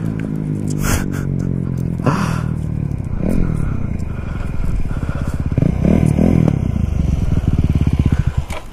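A Suzuki DR-Z dirt bike being broken in rides past doing jumps and wheelies, its engine revving up and down, rising and falling in pitch and growing louder toward the end, with clattering and brief voices around it.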